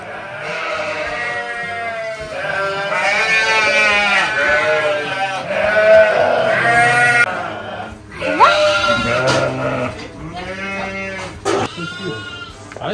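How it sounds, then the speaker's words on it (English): Lambs on a farm in Sweden bleat loudly and close by, with overlapping wavering calls that continue almost without a break. "he's got lamb, that's why it's really loud."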